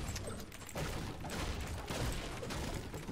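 Rapid bursts of charge shotgun fire in a video game, a dense, continuous clatter of shots running loud throughout with no pauses and no talking.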